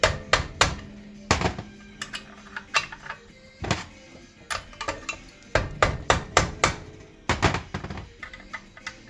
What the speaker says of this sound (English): I'm just going to give this a little tap